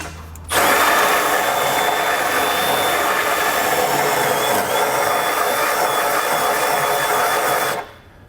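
A power drill bit enlarges a hole for trailer hitch hardware on a 2022 vehicle, one loud continuous whirring grind starting abruptly and cutting off after about seven seconds.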